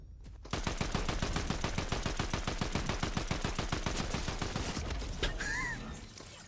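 Rapid automatic gunfire from a shooter video game fires in a steady, evenly spaced stream for about five seconds, loud and close, then stops, followed by a brief fading tone.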